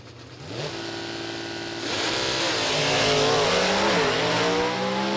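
At a drag strip, a 1964 Ford Mustang with a 302 stick shift races a 1966 Chevrolet with a 283 stick shift. Loud engines rev hard and climb through the gears, building into a sustained roar with rising and falling pitch.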